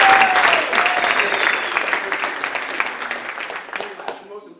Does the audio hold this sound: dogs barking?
no